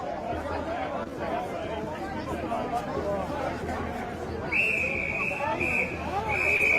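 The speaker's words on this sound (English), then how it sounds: "Listen for the whistle." A shrill whistle is blown in long, steady blasts over the busy chatter of a crowd at a street demonstration, cutting through the murmur of many voices partway through.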